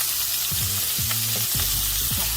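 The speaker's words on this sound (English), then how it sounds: "So we're just going to get it nice and brown sear on them." Lamb chops seasoned with garlic powder sear in a hot pan with a loud, continuous close sizzle, while low scraping and tonal bumps from the pan come through underneath.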